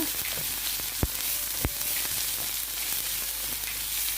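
Browned onions with a teaspoon each of ginger and garlic sizzle steadily in a pan, a bright continuous hiss broken by two dull knocks of a utensil, close and fairly loud with no voices.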